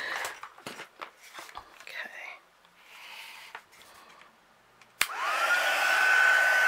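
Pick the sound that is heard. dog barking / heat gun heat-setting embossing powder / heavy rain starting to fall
heat gun heat-setting embossing powder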